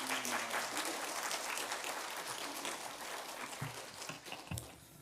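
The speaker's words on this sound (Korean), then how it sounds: "우리 버지니아 비치에서 가장 뜨거운 박수로 우리 환영하겠습니다" A church congregation in Virginia Beach claps loudly and warmly in sustained applause for a missionary to India taking the stage. The clapping thins toward the end, with a few low murmurs.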